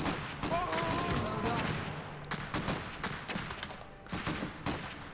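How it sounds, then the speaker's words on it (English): Gunfire in the video game Iron Harvest, bursts of rifle and machine-gun shots crackling in rapid uneven volleys, moderately faint amid battle noise, with voices shouting over it. "We're taking fire!"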